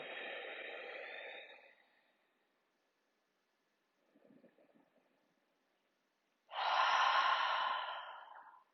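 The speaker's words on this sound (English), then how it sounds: "Full breaths in and out." Deep breaths during a seated yoga twist: a long exhale, a faint pause with a soft quiet breath, then a strong airy inhale, all close to the microphone with no talking.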